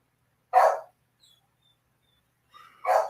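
A pet dog at home lets out two sharp barks, one near the start and another about two seconds later, loud and close with quiet between them.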